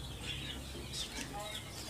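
Baby chicks in a pet store give faint, high chirps in short scattered bursts over a low room hum, quiet and somewhat distant.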